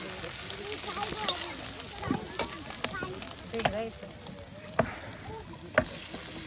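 Eggs and potatoes frying together in a pan at a riverside cooking spot, a continuous sizzle broken by sharp scraping stirs and clinks, close and fairly loud.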